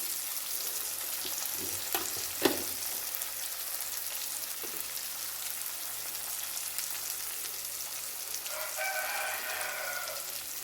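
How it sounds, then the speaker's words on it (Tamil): Onions with curry leaves sautéing in oil for a wedding-style potato curry, a steady low hiss of frying close by, with a sharp clank early on and faint chirping noises near the end. "வெங்காயம் நல்லா வதங்கட்டும்"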